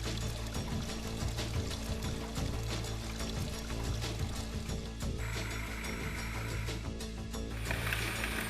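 Running water splashes and pours steadily over a plastic food processor part as it is rinsed, a continuous close, fairly loud stream with a brighter gush near the end, with no voices.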